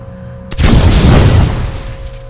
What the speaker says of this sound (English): Kiya uses that missile right into TmG's wall